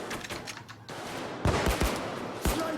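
Sniper gunfire in PAYDAY 2: a couple of sharp, distant-sounding shots crack out about a second apart over quiet game ambience.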